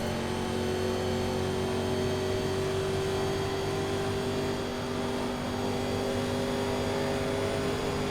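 Race cars running in a tight restrictor-plate pack produce a dense, constant engine drone at steady volume, with no voices.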